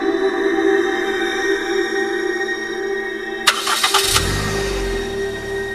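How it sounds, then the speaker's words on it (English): A steady engine idles, then a sharp transient and a brief burst of rattling clicks before the motor settles into a deep, low rumble. "I started the engine and sped away."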